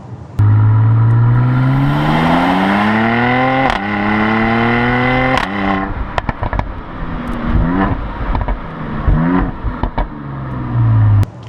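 A Mercedes-AMG GLC 43 with a 3-liter twin-turbo V6 revs hard. Its engine note climbs and falls several times, with a sharp pop and crackle between the revs, loud and close with no talk.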